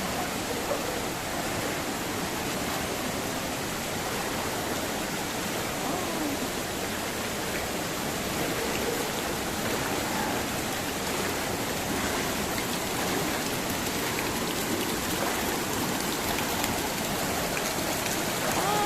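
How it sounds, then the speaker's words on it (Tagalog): Steady, full-bodied rush of the waterfall at Lipit River and Falls in Sison, Pangasinan, a continuous broadband roar with no pauses, moderately loud throughout. "Ito yung waterfalls."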